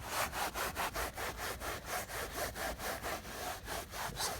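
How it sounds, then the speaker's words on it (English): A green microfiber cloth wiping foam off a filthy Crown Victoria car seat, with about eighteen brisk, evenly spaced back-and-forth rubbing strokes, close and steady, with no talking. "I'm gonna come back behind this foam with the green microfiber,"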